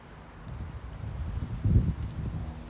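Gusty wind blows outdoors, a steady low rumble that swells into a stronger buffeting gust midway before easing back, buffeting the microphone, with no voices.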